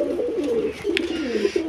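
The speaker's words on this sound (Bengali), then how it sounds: "আর যদি দেখেন এই একজোড়া ডাকতাছে" A pair of fancy racer pigeons cooing close by: soft, low, rolling coos repeating throughout, with a faint click in the middle.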